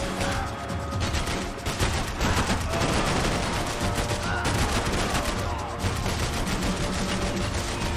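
Dense, continuous gunfire fills the space in Max Payne 3, with rapid bursts, mechanical clatter and impacts overlapping throughout, loud and close, with brief shouted voices over the shooting.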